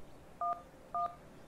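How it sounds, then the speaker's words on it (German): Two short telephone dialing beeps from keypad presses in the video game Accident, evenly spaced and clear against quiet background hiss. "Telefon. Wir wissen, wir müssen erstmal anrufen."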